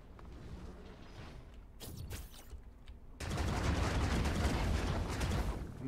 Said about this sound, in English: Oh my gosh, you can just hear the explosions.